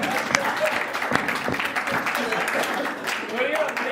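Audience applause at a Hindi comedy poetry gathering, a hasya kavi sammelan, with moderate scattered clapping from a seated crowd, interspersed with a few sharper individual claps.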